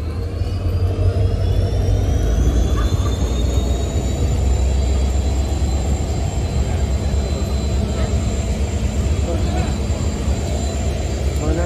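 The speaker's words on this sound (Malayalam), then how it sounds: "അപ്പോൾ ട്രെയിൻ ഇപ്പോൾ സ്റ്റേഷനിൽ എത്തിയിട്ടുണ്ട്" A train stands at a station on the Nilambur railway line in Kerala. Its loud, continuous rumble fills the whole stretch, with a thin high whine running steadily over it. No clear voices break through.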